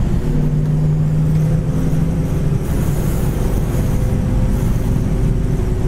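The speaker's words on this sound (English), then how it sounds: "Dual exhaust sounds great, motor sounds great, no exhaust leaks anywhere." A 1969 Chevrolet Chevelle Super Sport engine with dual exhaust idles with a steady low rumble and faint hum of exhaust, continuous and fairly loud throughout, with no talking.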